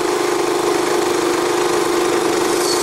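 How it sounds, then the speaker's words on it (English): Energizer eZV3200P portable generator running in eco mode at lowered RPM, a steady close engine drone with an even hum throughout, no talk. "So that lowers the RPM down quite a bit in equal mode and should run a lot quieter."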